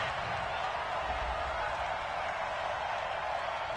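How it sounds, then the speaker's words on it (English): A stadium crowd in the Madden 20 football game keeps up a steady, broad roar of disapproval after a penalty call, a continuous wash of noise with no single voices standing out. "Well, this crowd does not like that call."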